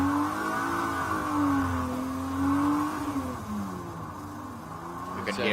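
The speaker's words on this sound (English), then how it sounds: "You can hear him dragging the brakes." A Ferrari Challenge race car rolls slowly into the pit lane at Laguna Seca while dragging its brakes, its engine a moderate mid-pitched hum that wavers and drops off, with faint trackside voices and a sharp click near the end.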